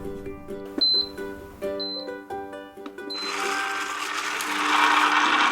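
A high-speed blender processes soaked soybeans with water. A few short electronic beeps come first, then the motor starts with a loud, rising whirring roar.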